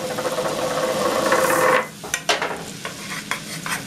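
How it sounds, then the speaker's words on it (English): Flour is stirred into melted butter in a pan to make a roux, a loud close sizzle with scraping for nearly two seconds, then quieter scattered stirring clinks and scrapes. "sprinkle in the flour."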